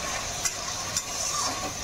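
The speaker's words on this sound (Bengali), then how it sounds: "একটু মশলা দিয়ে ভাজা ভাজা করে নেব" Rohu fish and bottle gourd fry with spices in a pan, giving a soft steady sizzle broken by a few light scraping stirs, close and fairly quiet, with no talking.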